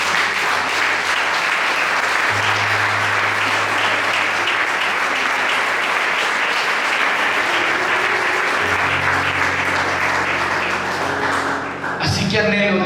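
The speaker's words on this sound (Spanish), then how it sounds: "¿Qué tal si le da un aplauso al Señor?" A church congregation applauds for a sustained stretch during a sermon, broad steady clapping that fills the room, with organ or keyboard tones sustained underneath and a brief shift near the end.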